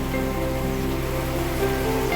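Rain falls steadily in Junagadh, a dense, even rushing patter that is close and continuous, with no voices.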